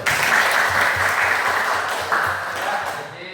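A classroom of students applauding for their teacher, loud, dense clapping from many hands that carries on steadily and tapers slightly near the end.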